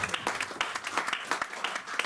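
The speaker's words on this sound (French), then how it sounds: "Donnons une acclamation." Church congregation applauding after a sermon, a dense, lively burst of many hands clapping close by.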